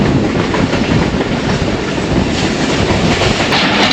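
A 101UP Subak Raftar passenger train runs on its rails near Lahore on a foggy morning, giving a loud, steady, close rumble with continuous wheel clatter for the whole stretch and no voices.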